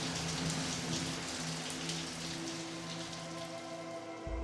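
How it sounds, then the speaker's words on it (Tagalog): Heavy rain pours down steadily over a village, a dense continuous hiss of drops hitting surfaces with a low hum underneath and no voices. "Patuloy sa pagbuhos ang malakas na ulan."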